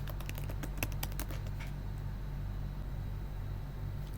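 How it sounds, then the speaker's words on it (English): Quick typing on a computer keyboard, a short burst of clicking keystrokes in the first two seconds over a steady low electrical hum. "We go to the terminal and type yarn dev."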